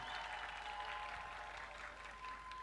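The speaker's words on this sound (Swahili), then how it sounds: "Tupigie makofi mengi sana kwa niaba ya wengine." Crowd applause at a CCM political rally in Pwani region, Tanzania: a dense, steady wash of clapping, fairly faint and distant, with no talking.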